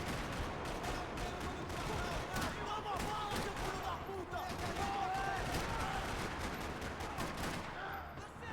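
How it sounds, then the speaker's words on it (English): Sustained gunfire rattles across a parking lot in the video game Max Payne 3, dense overlapping shots and bursts filling the scene continuously at steady loudness, with occasional sharper cracks standing out. "parking lot rattling with gunfire"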